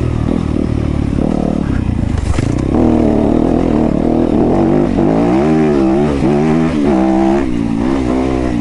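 A Yamaha YZ250FX dirt bike accelerates on a trail, its loud close engine climbing and wavering in pitch through rising revs, with clatter from the ride and no voices.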